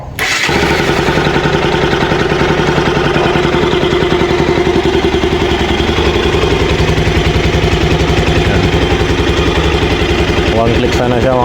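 A Rouser NS200 motorcycle idles with its air filter removed, a loud, steady, rapid mechanical chatter running continuously after a quick start, close by with no pauses.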